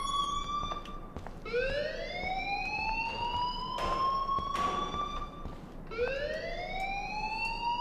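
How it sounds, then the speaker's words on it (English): An electronic alarm in the video game Life Is Strange, rising whooping siren-like sweeps repeating three times in a steady cycle, loud and close with no talk over it. "please turn off that alarm since that's your job"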